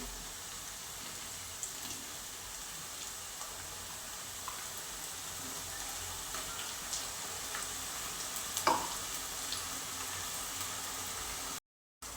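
Ground masala paste frying with sautéed onion for chana masala: a steady, hissing sizzle like light rain, quiet and close, with an occasional faint scrape, ending in a brief silence.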